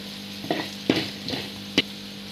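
Paneer fries lightly in a pan under a faint sizzle, broken by four sharp spatula scrapes and clinks at uneven intervals.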